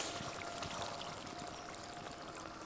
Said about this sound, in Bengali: এখন খুব সামান্য পরিমাণ জল দিয়ে দেবো।